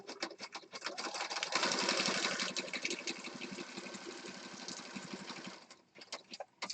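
A sewing machine stitches through paper junk journal pages, a steady fast needle chatter that runs for several seconds, then slows and stops with a few short bursts near the end.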